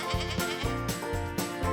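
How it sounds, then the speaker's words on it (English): Several farm goats bleat in loud, wavering calls, three or four overlapping bleats in quick succession close to the microphone, with no talking. "There are 2 other goats that showed up."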